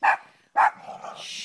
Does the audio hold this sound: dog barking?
yes